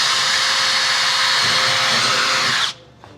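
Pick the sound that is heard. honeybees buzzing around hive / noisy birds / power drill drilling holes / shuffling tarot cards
power drill drilling holes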